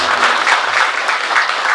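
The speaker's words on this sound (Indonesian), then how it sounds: "punya tepuk tangan untuk kita semua" An audience claps in a mosque youth motivational session, bursts of loud, dense applause pulsing steadily for a brief stretch with no talk over it.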